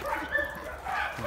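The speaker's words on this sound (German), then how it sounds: "Noch mehr Hunde." Dogs at a rescue shelter in China yip and bark in short bursts across a moment of background bustle, with a faint voice mixed in.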